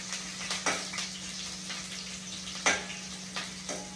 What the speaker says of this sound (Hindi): बढ़िया से प्याज जो है गरम हो रहा है, एकदम सुनहरा होने तक भूनेंगे इसको